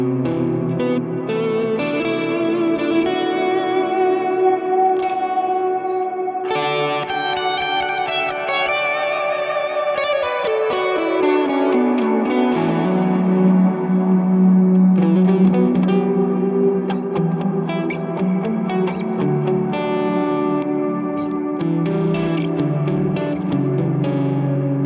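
Electric guitar through a plate reverb in the Neural DSP Archetype Mateus Asato plugin plays sustained chords and sliding single notes, each ringing out into a long, shimmering tail, loud and alone.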